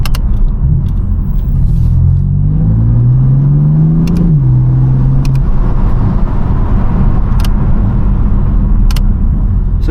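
A BMW M4 pulls hard through its gears via paddle shifters, loud engine revs climbing and dropping with quick shift breaks, close up inside the car, no talk.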